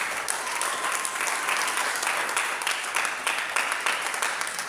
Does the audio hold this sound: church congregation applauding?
yes